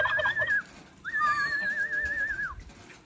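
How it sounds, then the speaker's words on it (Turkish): A woodcock gives two clear warbling whistles, one short and one longer, close and fairly loud over a quiet background. "Bizim cullukta kendine gelmeye başladı, ötmeye başladı."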